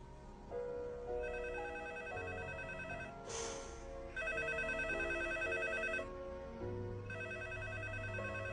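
A telephone rings in repeated electronic bursts with short gaps between them, moderately loud indoors, with a faint low background underneath.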